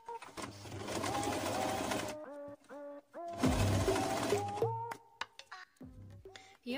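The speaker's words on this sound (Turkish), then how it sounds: "Dikiş payı için kıvrılan ütü çizgisinden biyemi dikeceğim." Household sewing machine stitching bias binding along a pressed fold line onto fabric edge; two steady whirring runs of rapid needle chatter separated by a brief pause, close and loud, with faint musical background.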